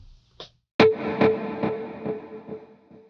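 An overdriven electric guitar chord rings out after a short muted pick, followed by quieter delayed repeats that fade gradually.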